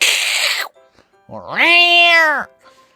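After a brief breathy burst, a voice imitates an angry cat with one long, drawn-out, rising-and-falling yowl, close and loud.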